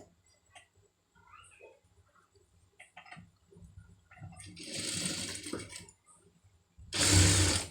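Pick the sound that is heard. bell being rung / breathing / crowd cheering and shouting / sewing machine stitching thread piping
sewing machine stitching thread piping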